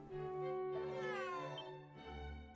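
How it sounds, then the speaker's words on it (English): A cat meows in Dragon Quest VII Reimagined, a few drawn-out, close, clear meows with rising and falling pitch, alone without talk. "The cat is staring intently at the food that's cooking."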